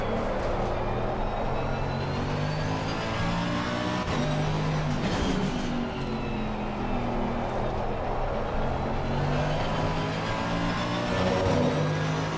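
BMW GT3 race cars in a sim racing game at Zandvoort run close together, engines droning loud and continuous with shifting pitch as they rev and change gear, no voices over them.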